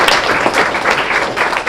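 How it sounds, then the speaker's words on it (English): A school audience applauds the audio engineer and crew at a Student of the Month event, a steady, dense burst of clapping that holds at full strength for the short span. "let's give them a great round of applause"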